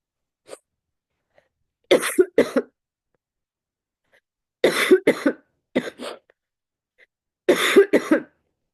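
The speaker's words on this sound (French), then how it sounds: "Ça tousse, ça tousse." A person coughs in three separate fits of two or three harsh, close coughs each, with silent pauses between them.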